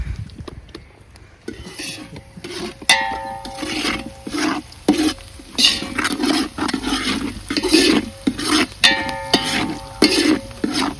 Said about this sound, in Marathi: कांदा जेवढा आपण तळण तेवढं कालवण चांगलं लागतं